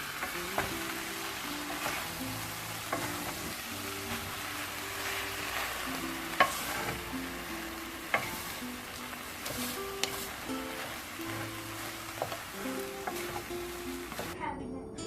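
Vegetable noodles sizzle and fry in a pan while being stirred, a steady close crackle broken by scraping and clinking strokes, with a faint voice in the background.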